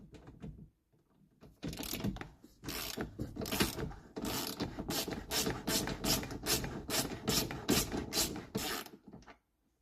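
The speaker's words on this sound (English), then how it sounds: "now using a 16 and an 18mm socket, you're going to remove the seat belt from the cross member." A 16 mm and an 18 mm socket on a ratchet loosen the seat belt bolt on the cross member of a Polaris Ranger 1000 XP. Rapid, close ratcheting clicks repeat in about fifteen quick bursts, then stop.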